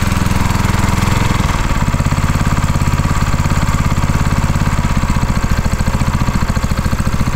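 Eberth 6.5 hp Honda-clone petrol engine idling on half choke, a steady rapid chugging putter that shifts to a slightly lower, looser beat early on, loud and close with no speech.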